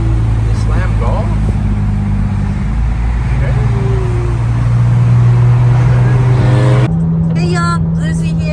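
A car hums along the road toward a Karuma car meet, with a steady engine drone and road noise running under people talking inside the cabin.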